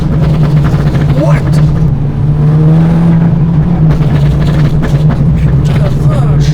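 A stage 3 Volkswagen Golf 5 GTI tuned past 300 horsepower accelerates hard, heard from inside the cabin with a loud, droning engine note that climbs steadily. Voices talk over it.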